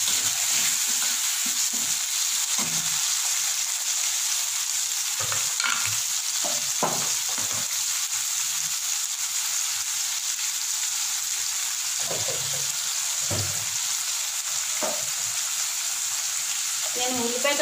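Chopped tomatoes and onions frying in a pan for tomato bath, a steady bright sizzle running throughout with occasional soft scrapes and stirs of a spoon, close and even.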